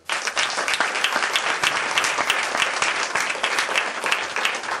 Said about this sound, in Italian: io vorrei ricordare con un applauso